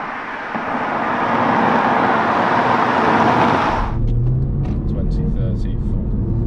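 A car on a test drive rumbles with broad road and wind noise that gives way to a lower engine drone from inside the cabin, steady and fairly loud.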